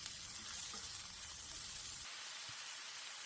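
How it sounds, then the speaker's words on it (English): Sirloin, tomatoes, garlic and ginger sizzling in a skillet, a steady hissing fry that drops abruptly to a quieter simmer partway through. "As soon as the tomatoes start to soften a bit, I'm going to add this sirloin back in."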